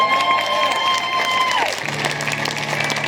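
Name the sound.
concert audience applause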